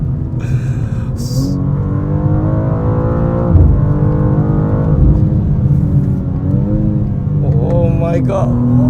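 A 2023 BMW M2 with a 460 hp engine and eight-speed automatic accelerates hard, its engine roaring loudly and climbing in pitch through several gear changes, with a voice briefly heard over it.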